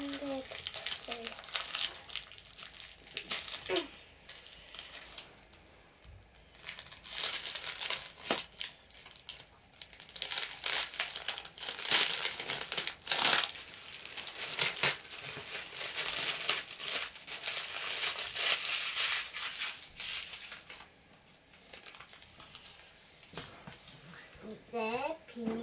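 Plastic packaging around a children's sticker maker crinkles and tears in repeated bursts, close by, while an adult and someone talk over and between the rustling.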